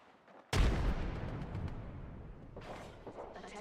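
A frag grenade goes off in Apex Legends with a sudden loud blast, then a long rumbling decay and debris rattle that fades over a few seconds before a brief second swell of noise.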